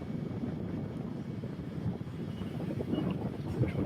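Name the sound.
Boeing 737 MAX airliner arriving at Birmingham Airport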